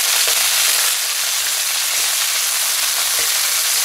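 Beef pieces for a Tuscan stew brown in hot oil in an uncrowded pan, giving a loud, steady, close sizzle with a few faint knocks and no voices.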